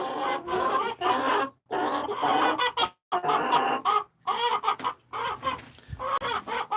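A Light Brahma or Jersey Giant hen in a nesting box clucks close up in a long, insistent run of throaty, rhythmic calls, broken by a few brief pauses.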